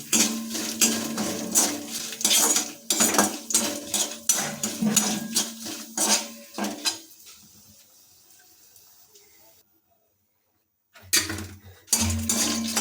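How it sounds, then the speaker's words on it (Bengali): A ladle stirs dried red chilli, bay leaf, five-spice and whole garam masala in a pan, metal scraping and clanking in rapid, busy strokes, then a quiet pause before a few more knocks. "এটাকে আমরা হাতাতে ভালোভাবে নাড়িয়ে নেবো প্রায় মিনিট দুয়েক ধরে"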